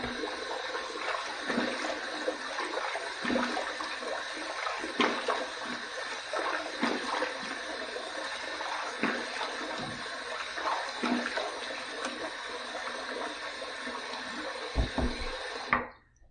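Running water used to rinse shave soap off a face, a continuous close tap flow with irregular splashing and knocks as hands move through the stream, cutting off at the end.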